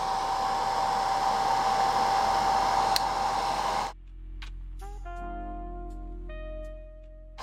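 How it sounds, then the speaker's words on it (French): A hair dryer set to medium heat, used while gluing a lace wig, blows a steady loud rushing whoosh with a faint whine for about four seconds, then cuts off abruptly, leaving quiet tonal background. "on va venir utiliser le sèche-cheveux"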